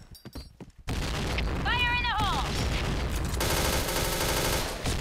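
Dense, continuous OA-93 gunfire in the shooter game Point Blank erupts loudly and carries on without a break, with a brief warbling electronic tone over it; a few short taps come before it starts.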